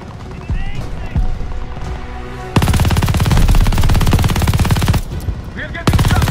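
Call of Duty Vanguard Stalingrad battle gunfire from upper windows: rapid machine-gun bursts crackling loud and close, with sustained automatic fire after a brief pause, and a voice shouting between shots.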